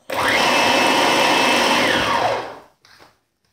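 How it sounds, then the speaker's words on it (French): A blender whirs loudly and steadily for about two and a half seconds while mixing vegan muffin batter made with margarine, then winds down and stops, followed by a brief faint rattle. "j'ai plus qu'à mixer tout ça"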